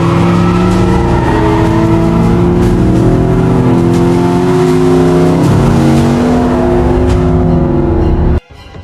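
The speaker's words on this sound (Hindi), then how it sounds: "वह तुरंत अपनी गाड़ी में बैठा और पूरी रफ्तार से जंगल की तरफ निकल पड़ा।" A car speeding away at full throttle toward a forest, as a sound effect: a loud, continuous engine roar with strong revving tones that holds for about eight seconds, then cuts off abruptly, with no talking.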